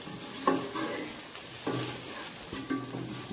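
Okra and potato fry with fresh coriander being stirred in a pan on the stove, with three scraping strokes over a steady soft sizzle, close and fairly quiet.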